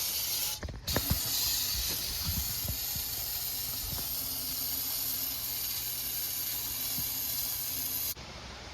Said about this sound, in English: hose this out the best I can with some brake clean